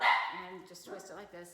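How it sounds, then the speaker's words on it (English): A dog barks indoors, with several short yips and barks in quick succession at moderate distance. A person speaks at the same time. "the dog barks at any footsteps she hears"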